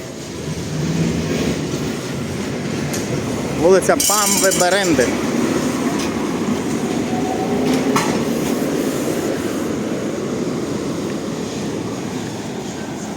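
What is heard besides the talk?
tram passing on city street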